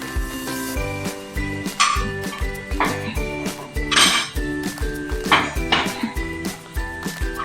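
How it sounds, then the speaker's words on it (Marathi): Banana appe being lifted out of the pan into a serving bowl, with repeated light clinks and taps of metal utensil on cookware at a moderate, close level, no talking. "आता आपण ते काढूया डिशमध्ये. पण हे छानपैकी सर्विंग बाउलमध्ये काढूया."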